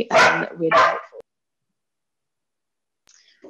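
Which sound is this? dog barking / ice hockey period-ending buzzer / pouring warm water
dog barking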